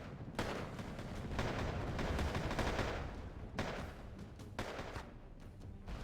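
Assault rifle gunfire in the Wargame Airland Battle video game, a dense rolling crackle of distant shots with louder sharp bursts standing out, sustained throughout.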